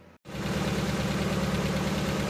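A warmed-up Mazda MX-5 NA engine idles steadily near 850 rpm while its ignition timing is set, a close, even rumble with regular firing pulses that starts after a brief silent gap and carries on without any voices.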